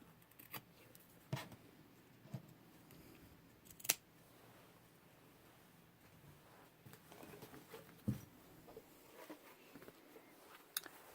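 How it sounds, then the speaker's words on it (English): Scissors trimming elastic for a sewn backpack: a few sharp, isolated snips spaced seconds apart, close and quiet against a still background. "I'm going to trim off these two bits of elastic here."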